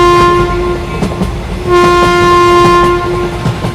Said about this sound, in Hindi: तभी थोड़ी देर में इन लोगों की ट्रेन अगले स्टेशन पे आ जाती है।